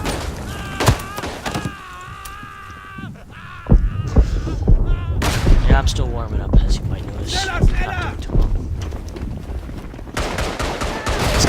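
Gunfire fills a World War I battlefield in the game Verdun, with sharp rifle cracks and bursts of shots over a rumbling hum, while shouted voices and calls break in throughout.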